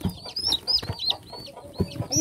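Small farm chicks peep in a series of short, high chirps, with some low clucking from fowl close by and a few soft sounds of movement.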